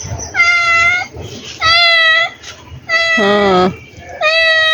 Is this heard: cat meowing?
yes